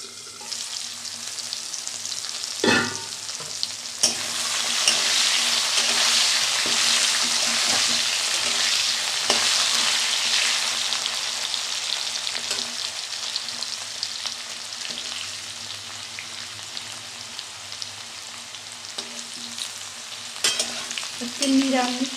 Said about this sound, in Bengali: আলু ভাজাটা আমার হয়ে গেছে